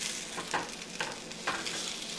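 Homemade zucchini cakes fry in a pan, giving a soft, steady sizzle with a few brief stirring scrapes and no talk.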